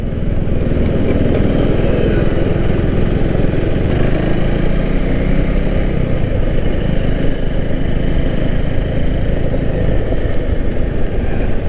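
A 2024 KTM Duke 390 Gen 3 motorcycle ridden with a loud, steady engine drone and road rumble filling the whole stretch without pause.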